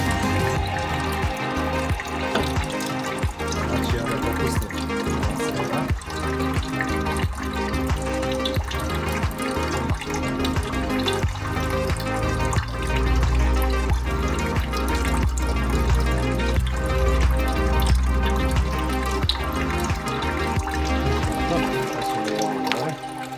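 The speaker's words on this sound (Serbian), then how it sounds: "E, da voda curi." Water drains from the radiator of an IMT tractor in a continuous splashing trickle that runs without a break for over twenty seconds, with a deeper gurgle partway through.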